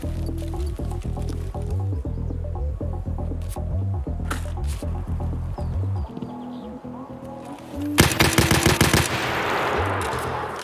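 Gunfire in the shooter Escape from Tarkov on the Lighthouse map, likely a G36 rifle: a fast burst of shots toward the end, after a stretch of rhythmic clicking and ambient game sounds.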